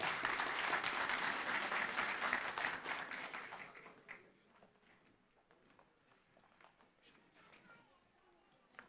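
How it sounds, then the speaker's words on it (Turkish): Audience at a federation congress of Iğdır associations in Gebze applauding a former mayor onto the stage, steady crowd clapping for about four seconds before it fades to scattered claps and murmuring voices in the hall. "alkışlarınızla sahneye davet ediyoruz."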